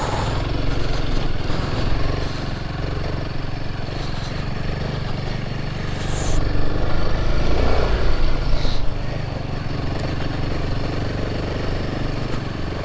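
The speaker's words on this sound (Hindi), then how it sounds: "नॉर्मल मोटरसाइकिल पे ये ट्रेल्स चैलेंजिंग है, पर एडीवी हो तो फिर कोई दिक्कत नहीं है।" Adventure motorcycle engine droning steadily while riding a rough, challenging trail in Nepal's Sinja Valley, a continuous mid-level hum with a slight swell midway and rustling movement noise throughout.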